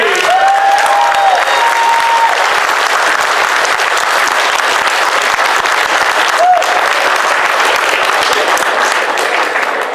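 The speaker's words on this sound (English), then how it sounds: "Ladies and gentlemen, please give a big round of applause to Mr. Bob Budiansky." Large convention audience applauding to welcome a panel guest, a continuous loud wash of clapping sustained throughout, with a faint whistle or cheer rising above it at moments.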